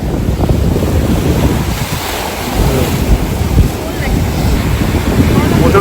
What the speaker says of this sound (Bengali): প্রচণ্ড বড় ঢেউ আসছে,